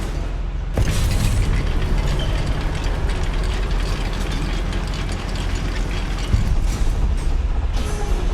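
Goblin mine lift mechanism in Hogwarts Legacy, a clanking, ratcheting machine that starts with a thud and keeps grinding and rumbling, with heavier knocks toward the end.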